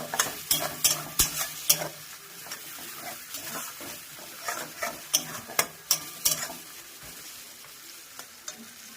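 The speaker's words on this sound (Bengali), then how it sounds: "দেখুন পেঁয়াজটা হালকা হালকা যদি ভাজা হয়ে যায়" Onions frying in a pan in a village kitchen, sizzling under repeated sharp scraping and stirring strokes in an irregular rhythm, fairly close and moderately loud.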